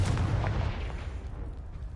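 Confringo spell blasting apart a pile in the video game Hogwarts Legacy, a loud, heavy boom that rolls into a rumbling decay over two seconds, with no talking.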